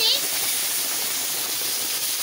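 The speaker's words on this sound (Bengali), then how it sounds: "সাদা তেল গরম হয়ে গেছে, আমি আলু পেঁয়াজ দিয়ে দিচ্ছি" Potatoes and onions dropped into hot white cooking oil give a loud, steady hiss and sizzle, heard close up and alone from start to finish.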